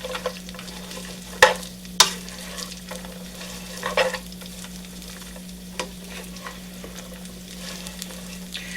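Dry beans, about half a gallon bag's worth, are stirred in a hot pot over slightly above medium heat, giving a few sharp scraping knocks over a steady soft sizzle with no talking.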